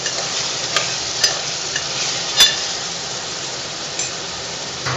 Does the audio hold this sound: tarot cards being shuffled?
no